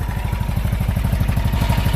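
A car engine sitting on solid, rigid mounts runs at idle nearby, with a loud, fast, rhythmic chugging rumble and metallic clatter, steady and unbroken, with no voices.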